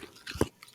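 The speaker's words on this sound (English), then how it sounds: "I think you are chewing something" Person chewing something, a brief moist crunch of biting and mastication close to the microphone, faint and over in under a second.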